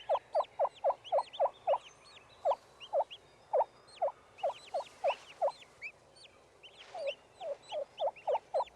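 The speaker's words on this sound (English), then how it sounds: "the hen stands, signals with a special call, and walks away from the nest" A wild turkey hen gives a rapid series of short, clucking yelps in quick rhythmic bursts, clear and close, with brief pauses between runs and no other voices.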